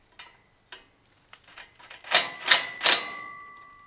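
A bolt is tightened on a bracket of a John Deere 348, starting with scattered light metallic clicks and ticks, then three loud, close metal clanks whose ringing tone lingers afterward.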